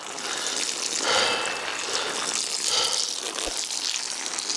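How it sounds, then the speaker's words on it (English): Water poured from a bucket onto a rhubarb plant at an allotment, a steady splashing gush that runs evenly through the clip and swells twice along the way. "I can just water that in."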